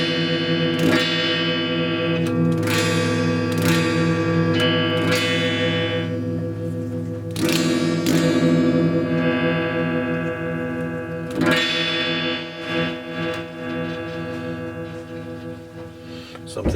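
A Telecaster-copy electric guitar played through its back pickup gives several strummed chords that ring out with effects-laden sustain, loud and alone, with the strums spaced a few seconds apart.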